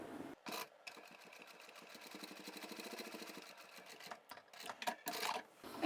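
Sewing machine stitching shut the opening of a small scrap-fabric cosmetic pouch at a stitch length of about 3.2, a steady rapid mechanical chatter running several seconds between brief pauses and a few louder clunks at the end.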